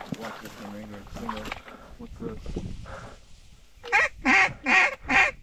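Ducks and geese honk and call over water during a duck hunt. After a stretch of people talking and softer calls, four loud, evenly spaced honks ring out close by.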